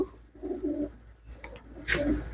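Pigeons at a pigeon seller's coo close by in two low, throaty bursts separated by a short pause, with no voices over them.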